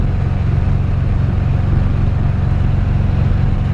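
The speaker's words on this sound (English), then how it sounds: "It does have a little shorty exhaust on it, so it's a little bit loud." A 1954 Chevrolet 3100 pickup truck with a short exhaust cruising steadily at about 55 to 60 mph, with a loud, throaty exhaust drone and constant low rumble, close by and unbroken throughout.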